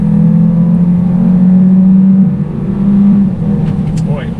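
A 2020 Hyundai Sonata sedan with a 1.6 liter turbo four-cylinder pulls hard under acceleration, a loud steady engine drone heard from inside the cabin that dips slightly partway through, with no voices heard.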